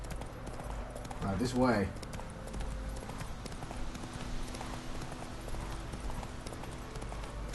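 Roach, the horse in The Witcher 3: Wild Hunt, trots with a steady clip-clop of hooves across the whole stretch, while someone speaks briefly and a low game ambience runs underneath.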